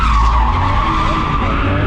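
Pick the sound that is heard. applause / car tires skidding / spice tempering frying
car tires skidding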